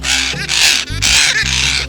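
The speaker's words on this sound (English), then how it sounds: "a parrot who is quite vocal about being inconvenienced" A loud, harsh parrot calls out in annoyance, three raspy squawks in quick succession, close and unaccompanied by talk.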